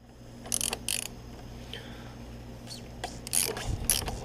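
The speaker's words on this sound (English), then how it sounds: "Loosen the filter up" A ratchet loosens the oil filter on a 2008–2012 Audi S5 with the 4.2L V8, giving short bursts of clicking pawl sound in two pairs, near and fairly loud, separated by quieter workshop background.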